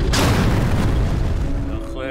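A single heavy boom from a tank cannon in a battle ambush during the October War, loud and close, with a rumbling decay and a brief tonal whine as it fades.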